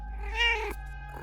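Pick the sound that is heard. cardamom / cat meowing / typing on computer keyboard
cat meowing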